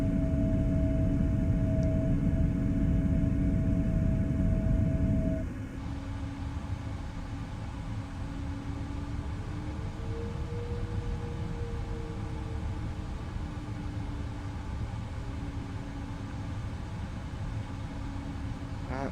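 Boeing 777-200ER jet engines roaring at takeoff thrust in the PMDG flight simulator, a loud steady broadband rumble with a sustained tone that drops to a lower, smoother roar partway through as the aircraft rolls and climbs.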